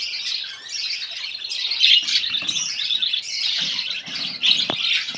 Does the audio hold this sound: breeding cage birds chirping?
yes